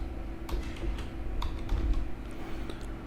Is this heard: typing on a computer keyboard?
yes